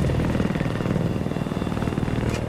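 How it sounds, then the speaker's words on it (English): A helicopter in the video game Battlefield 4 gives off a close, loud, rhythmic rotor chop and engine roar that runs steadily for the whole clip, with no talking. "Chopper."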